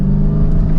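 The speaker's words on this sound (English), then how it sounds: "We're gonna drop it down a couple gears here, and we'll give it some gas." A 2022 Dodge Charger SRT Hellcat Widebody pulls from third gear with a deep, loud, steady exhaust rumble heard close from inside the car, in a brief unbroken burst.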